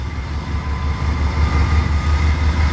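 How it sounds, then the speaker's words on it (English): A heavy, steady low rumble of a CN way freight train rolling nearby as it comes into Kamloops, a continuous mechanical drone with no voices. "Kamloops to Vernon, way freight, train 587, coming into Kamloops."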